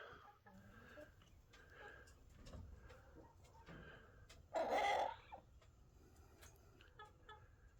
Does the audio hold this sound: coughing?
no